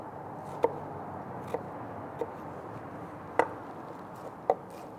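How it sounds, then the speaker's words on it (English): A knife dices shallots finely on a board, giving about five sharp, sparse chops spaced irregularly over a low room hum. "starting with dicing up some shallots"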